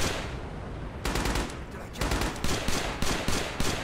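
An M1918 BAR automatic rifle fires in the Rising Storm video game: a loud, close burst begins after a second, then short rhythmic bursts of rapid shots repeat steadily to the end.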